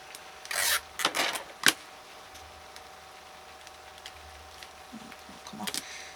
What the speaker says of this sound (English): if your tape does that, just give it a good rub down